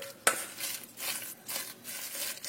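Tofu, oyster mushroom, basil and spices mixed together in a bowl for Indonesian botok, with soft intermittent stirring and scraping, one sharper clink near the start, close and fairly quiet with no talking.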